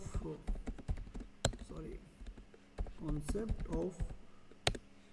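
Someone types on a computer keyboard during a data analysis session in R, producing uneven bursts of soft clicks and sharper key taps while someone talks over them.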